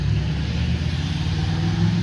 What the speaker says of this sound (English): Yeah, a lot of loud cars.